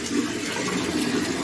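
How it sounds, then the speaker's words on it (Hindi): Water pours steadily into dried-out plant pots outdoors in the early morning. The splashing flow is continuous and moderately loud, and no one speaks over it. "आज मेरे गमले बहुत सूख गए हैं तो उसमें सोचती हूँ पानी दे दूँ।"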